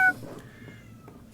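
A single short cat meow from a stock sound effect, bright and clear, lasting only a moment before fading into low background noise.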